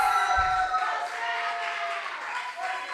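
At a regional junior science and maths quiz contest, the crowd gives a short burst of applause and cheering for the schools, with voices mixed into the clapping.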